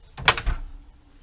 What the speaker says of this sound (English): the door does open sufficiently.